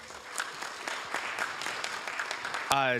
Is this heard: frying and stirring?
no